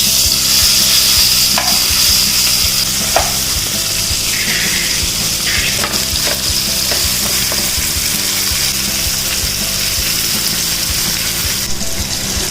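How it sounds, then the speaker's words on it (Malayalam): Masala-marinated fish fries in hot oil with curry leaves for a Kerala-style pickle, a loud, close, continuous sizzle with occasional spatters and scraping stirs, no voices over it. "ഇനി നമ്മൾ ഈ മസാല പുരട്ടി വെച്ചേക്കുന്ന ഫിഷ് ഈ എണ്ണയിലിട്ട് ഫ്രൈ ചെയ്യണം"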